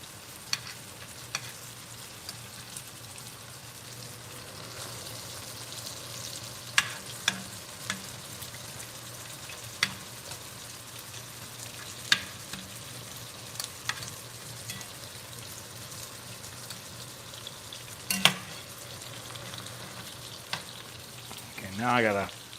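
Hamburger steak and onions frying in a small stainless steel pan, a continuous low sizzle with occasional sharp taps and scrapes of a utensil, brief talk mixed in.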